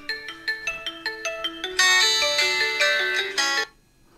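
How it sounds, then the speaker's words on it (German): A phone ringtone set off by the find-phone feature of a Xiaomi Mi Band 7 Pro smartwatch: a rising run of bright melodic notes that swells into sustained chords, then stops abruptly. "hier kann man dann das Handy anrufen lassen, wenn man halt das Handy verloren hat"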